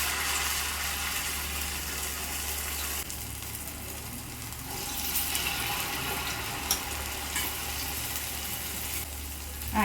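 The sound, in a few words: onion garelu frying in hot oil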